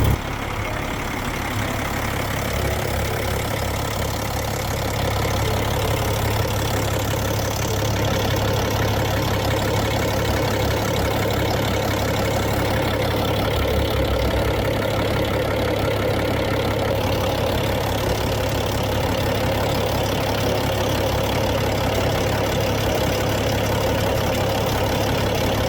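A Caterpillar truck diesel engine idles steadily and close by, a continuous deep rumbling drone with a faint knocking rhythm and no voices, fitted with a leaking oil supply hose to the compressor.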